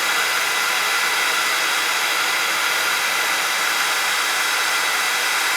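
Steady, loud broadband hiss of a heat tool blowing hot air onto embossing powder on a card, heated from the back, continuous and close with no talking.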